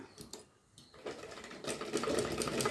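Sewing machine stitching the lining of a boutique-style blouse, a steady fast mechanical whir that starts softly, pauses briefly, then runs on continuously and grows louder, with no talk.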